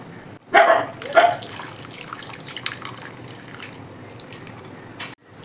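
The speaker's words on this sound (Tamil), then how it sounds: "நம்ம வச்சுருக்க புளி தண்ணி எக்ஸ்ட்ராக்ட் ஆட் பண்ணிக்கலாம்." Tamarind water extract is poured into a pan of cooking tomato pickle, giving two quick wet splashing bursts close by, then a low steady simmering hiss.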